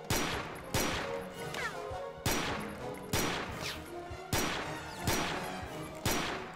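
Repeated heavy gunfire in the Doom-based game Blade of Agony, seven or eight loud sharp blasts at roughly one-second intervals, each ringing out with a decaying echo and debris rattle, no voices.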